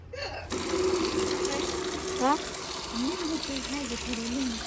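Water gushes steadily from a tap or hose, a constant splashing flow, while a voice talks over it.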